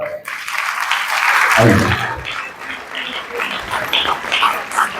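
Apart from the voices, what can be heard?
audience applause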